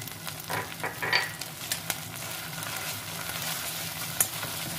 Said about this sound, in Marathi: आता हे सर्व वाटण अगदी आपल्याला छान परतून घ्यायचं आहे.